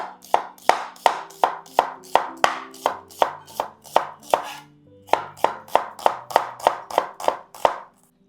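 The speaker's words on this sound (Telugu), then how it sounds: "సో నెక్స్ట్ ఆనియన్స్ కట్ చేద్దాం." A knife chops onions lengthwise on a board for prawn biryani, giving a close, crisp run of evenly spaced cuts with a short pause midway, then the rhythm resumes.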